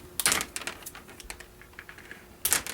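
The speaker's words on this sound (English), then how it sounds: "you can cut it with scissors" Scissors snipping through plastic drip irrigation tubing while emitters are plugged and installed: a series of crisp, close clicking cuts, a loud cluster at the start, lighter snips in between and another loud snip near the end.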